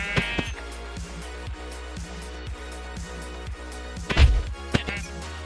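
Sheep in the Minecraft GregTech modpack bleat repeatedly, a nasal wavering call recurring over a low steady hum, with a louder burst near the end.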